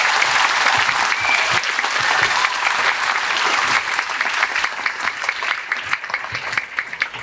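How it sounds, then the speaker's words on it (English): A crowd applauds at a school Veterans Day celebration, sustained clapping from many hands that thins out toward the end. "Let's give a round of applause one more time."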